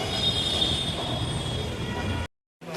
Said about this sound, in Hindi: और मैं खड़ी हो रखी मेट्रो स्टेशन पे।